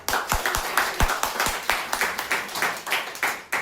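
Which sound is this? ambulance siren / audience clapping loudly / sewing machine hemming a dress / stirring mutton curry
audience clapping loudly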